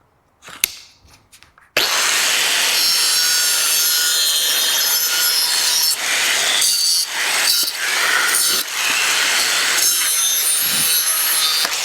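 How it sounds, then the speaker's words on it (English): A cutoff tool with an abrasive disc cuts through metal in a shop, a loud continuous high-pitched grinding screech lasting about ten seconds after a few short clicks and taps. "So, okie dokie, let's cut that off. We need a cutoff tool, don't we?"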